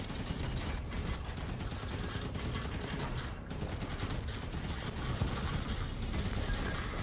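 Sustained enemy gunfire in Halo 5: Guardians, rapid automatic bursts layered with dense battle noise, loud and continuous throughout with brief dips, no speech over it.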